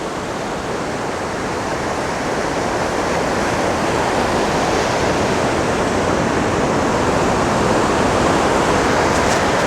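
The Great Falls on the Potomac River roar with a steady, dense rush of heavy falling water, loud and unbroken throughout with no voices.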